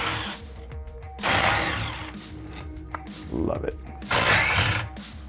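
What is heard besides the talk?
Milwaukee power tool loosening suspension bolts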